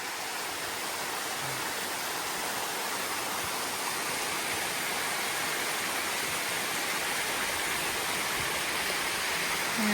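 A waterfall on a White Mountains trail rushes in a steady, broadband roar, constant and moderately distant, with no voices.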